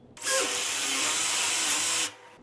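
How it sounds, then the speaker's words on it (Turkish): Power drill boring a hinge cup hole into wood through a clamped jig, one steady high-pitched whirring burst of about two seconds, close and loud, starting and stopping abruptly. "Matkap ucuna matkabımızı bağladık."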